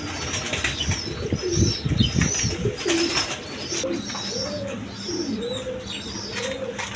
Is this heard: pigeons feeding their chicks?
yes